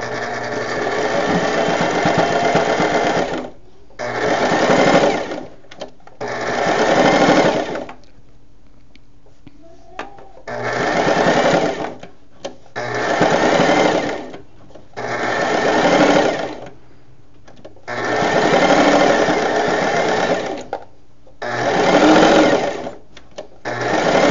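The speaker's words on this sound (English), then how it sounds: "I try to sew as close as I can" Sewing machine stitching fabric scraps, running in repeated bursts of a few seconds each with short pauses between, close and loud, with no talk.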